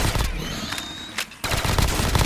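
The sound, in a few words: gunfire at war machine in Call of Duty Zombies video game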